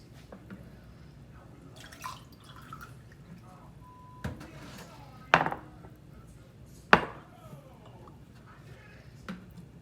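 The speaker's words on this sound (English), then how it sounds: "let me get to filling these up with their new round of vinegar" Vinegar poured from a container over eggs in jars, a few faint drips and splashes with light knocks of glass and handling, sparse and quiet, while a person talks between sounds.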